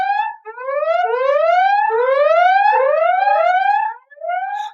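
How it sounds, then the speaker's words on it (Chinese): Alarm siren in an animated sci-fi drama: loud, synthetic rising wails sweep upward again and again in quick overlapping waves, with a short gap near the end before another rise. No voices. "警报！ 警报！ 侦测到超巨型空间波动，来源月球背面。"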